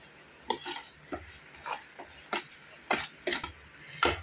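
A thick coconut sweet mixture being stirred in a pan on the stove: a series of separate scraping strokes of a spoon against the pan, roughly one every half second, close and fairly quiet, with no talking.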